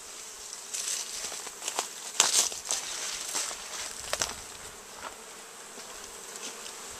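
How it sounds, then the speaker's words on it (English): Honeybees buzzing around hives on a warm hillside apiary, many bees passing close by in irregular swells of droning buzz over a quieter background hum, with no talk. "it's just a highway up here of bees this afternoon"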